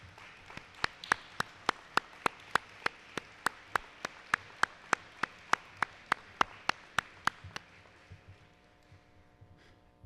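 A standing audience at a law enforcement graduation ceremony claps for faculty and staff: about twenty sharp, evenly spaced unison claps at a steady beat, fairly faint and distant, tapering away at the end.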